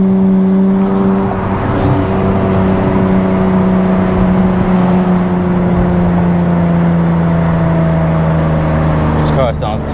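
An Infiniti Q60 on Z1 turbos with a stock motor, making 540 to 740 wheel horsepower, revs hard from inside the cabin, its loud engine drone holding a steady, climbing whine while a voice talks over it.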